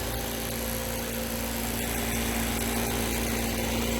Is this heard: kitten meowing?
no